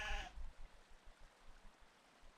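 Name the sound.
sheep bleating in a video game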